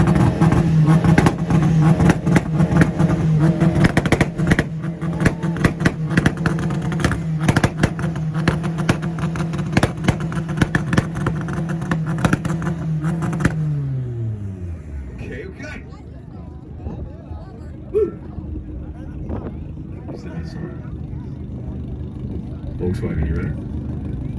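A Nissan and other cars such as a VW, VQ, 300ZX and Integra revving at a North Carolina two-step rev battle, a loud sustained engine drone with crackling pops, then a falling rev-down amid crowd chatter.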